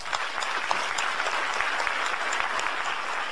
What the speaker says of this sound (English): Please give a big round of applause for the jury members